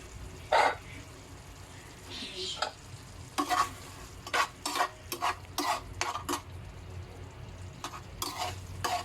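Sardines and tomato fry in a pan, a low steady sizzle punctuated by a string of sharp scrapes and clinks from a utensil working the pan, close and fairly loud.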